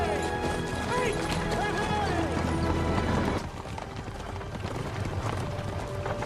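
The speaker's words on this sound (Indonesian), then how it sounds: "berkeliling menggunakan kereta kuda" Hooves of a horse pulling a carriage clip-clop steadily and close, with background music and other sound under them and a drop in level about halfway through.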